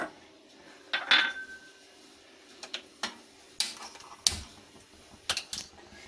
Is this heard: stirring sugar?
yes